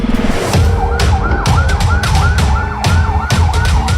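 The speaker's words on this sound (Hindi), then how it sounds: "अस्पताल में तीसरी एम्बुलेंस आती है" An ambulance arrives at a hospital during the Israel–Hamas war, its siren wailing loudly in rising and falling sweeps over rumbling traffic and sharp bangs nearby.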